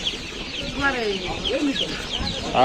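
Kuchinsky chickens and chicks at a Bishkek poultry market, clucking and peeping in several short calls close by over a busy crowd murmur.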